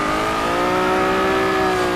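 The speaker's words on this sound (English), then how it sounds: "What you're listening to now is the in-game volume for both the effects and the engine" Honda NSX mod engine and effects in a racing video game, a steady loud engine drone with strong harmonic tones held at a constant pitch throughout, with no voices.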